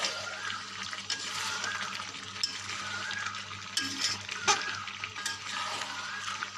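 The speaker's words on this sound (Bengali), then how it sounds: "এখন একটু আমরা নাড়িয়ে নেব ভালো করে" Chicken curry with tomato and water simmers in a pan while a spoon stirs it; a soft, low sizzle with a few faint clinks and scrapes, quiet and close, without any voices.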